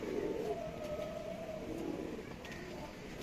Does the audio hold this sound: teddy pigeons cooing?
yes